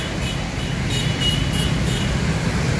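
A Jaya Utama intercity bus pulls away from the Putra Remaja terminal, its steady low engine rumble blending with surrounding road traffic at moderate distance, with no talk over it.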